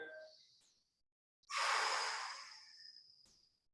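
Slow, deep breathing during a yoga lunge stretch, a soft airy inhale followed by a longer, louder exhale after a short pause, close and quiet with no speech.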